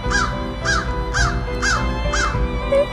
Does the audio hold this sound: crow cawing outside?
yes